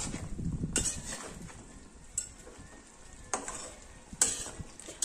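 Chicken being stir-fried in a kadhai for deshi bhuna chicken, with a steady close sizzle and repeated scraping and clinking of a spatula against the pan.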